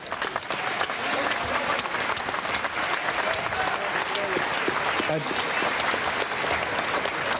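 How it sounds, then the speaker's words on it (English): A boxing crowd applauds a fighter, with dense sustained clapping and cheering filling the whole stretch at an even, full level. "Let's get a big round of applause for Lester Ellis."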